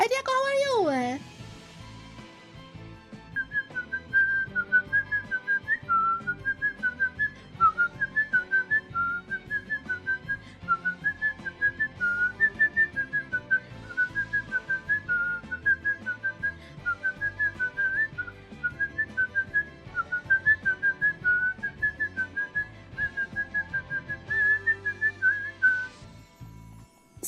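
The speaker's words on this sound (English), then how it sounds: "I had to whistle for a second." A person whistles a wavering melody for most of the stretch, a clear single pure tone rising and falling in a repeating tune, close and steady, while a voice talks underneath.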